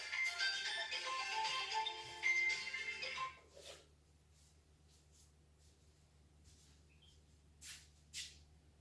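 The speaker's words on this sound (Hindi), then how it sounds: "फोन आ रहा है।" An incoming call's phone ringtone plays a bright, tinkling melody for about three seconds and then stops abruptly, leaving faint room hum and a couple of soft chirps.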